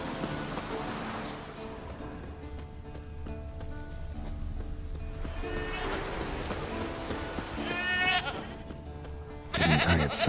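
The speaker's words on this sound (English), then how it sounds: "there is the goat" A goat bleats several times in The Witcher 3: Wild Hunt, its wavering cries fairly faint over a soft rain-like hiss and low ambient game sound, ending with a brief louder burst.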